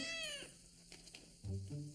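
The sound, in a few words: kitten meowing, cartoon cat Gilbert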